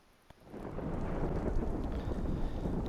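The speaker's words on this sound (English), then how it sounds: "there's a bit of a storm. The rain's just passing." Thunderstorm in the survival game DayZ: a sharp crack, then a rising rumble of thunder and steady rain washing in, loud and continuous with wind noise.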